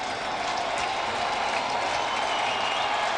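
Cardinals fans in a baseball stadium cheer in a dense, steady roar of crowd noise, broad and sustained with no distinct individual voices.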